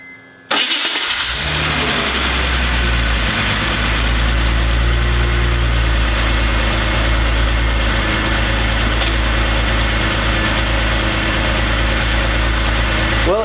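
A BMW Z4 with freshly changed oil cranks briefly and catches, then settles into a loud, steady idle with a deep rumbling drone and faint vibration, close by and without talk.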